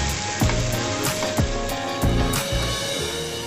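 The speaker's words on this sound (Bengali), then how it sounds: "টমেটো পেস্টটিকে ভালোভাবে ভেজে নেব।" Tomato paste frying in a pan with sautéed onions for a spicy fish curry, a steady close sizzle broken by a few sharp scraping stirs of a utensil.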